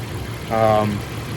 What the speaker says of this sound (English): that is a quiet engine for a 90s inline 6 Jeep.